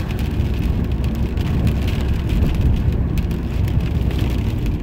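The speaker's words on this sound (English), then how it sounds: "You can hear the rain now" Steady rain drums on a car at driving speed, mixed with continuous road and engine rumble, loud and unbroken throughout with no talking.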